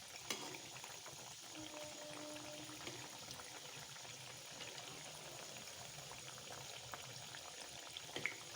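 Semolina jalebi frying in hot oil, a faint, steady bubbling crackle with occasional small clicks and pops over the whole stretch.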